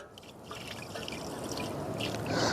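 Water poured through a cloth filter into a bucket as part of emergency purification, a steady close trickle and splash that swells louder toward the end.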